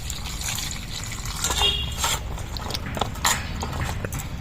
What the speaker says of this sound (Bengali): পটলটা ধুয়ে নিচ্ছি।